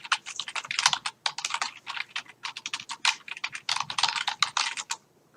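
Quick, steady typing on a computer keyboard while entering a file name, a dense run of close, crisp key clicks that stops abruptly near the end.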